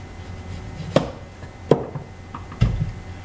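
Kitchen knife slicing the tip off a thick aloe leaf, three separate crisp chopping thuds spaced under a second apart, close and fairly quiet against a hushed room.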